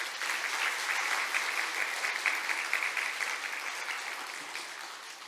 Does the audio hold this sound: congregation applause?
yes